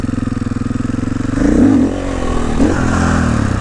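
A KTM EXC 500 supermoto motorcycle idles with a rapid pulsing beat, then revs sharply as the clutch is released to lift the front wheel into a wheelie, loud and close, followed by a second rev.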